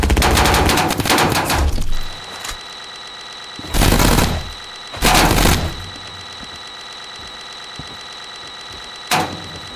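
Gunfire in the Roblox game Arsenal 2 comes as loud, rapid automatic bursts, then several separate heavy volleys with gaps between them, set over a steady hum.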